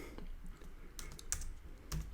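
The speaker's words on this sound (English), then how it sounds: "first thing is let's type" Fingers tap on a computer keyboard during a hacking session, a few quiet, scattered keystrokes heard close up over a faint background.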